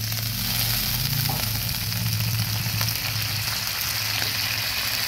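Banana stem frying and being stirred in a pan with a splash of water, a steady close sizzle and bubbling hiss running throughout with no talk.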